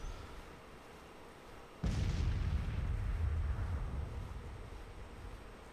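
In the Civil War strategy game Grand Tactician, an artillery shot cracks in sharply with a single heavy boom partway through. Its deep rumble trails off over several seconds above a low ambient bed of battle noise.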